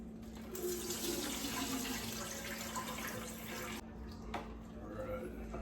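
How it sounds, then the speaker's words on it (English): Liquid fat from crockpot pulled pork pours and splashes through a colander set in a pot, a steady broadband rush of running liquid that lasts several seconds, then stops, followed by a brief clatter. "Now I'm going to take it over here and I'm going to strain all the fat that I can get off of it."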